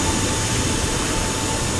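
A TAP airliner's jet engine spools up after ignition is selected, a steady loud broadband roar with a faint whine running throughout, no talk.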